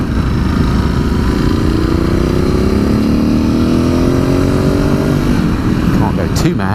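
A Ducati Scrambler 1100 motorcycle, 2019 model, rides along a road, its engine droning steadily and loudly under heavy wind rush, rising slightly in pitch before easing off near the end.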